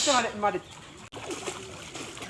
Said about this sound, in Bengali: তিনজন একসাথে মানে জোর হয়ে তারা সাঁতার কাটটা খুব সুন্দর লাগে